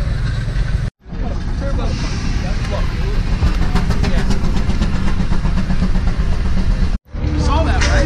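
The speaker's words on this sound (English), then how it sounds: "Pumping water with a steam engine." A 1946 antique steam engine at a steam and gas engine show drives a belt to pump water, giving a loud, steady mechanical chugging that runs nearly continuously with two brief cut-outs.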